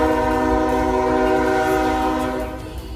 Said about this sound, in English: don't mind the train passing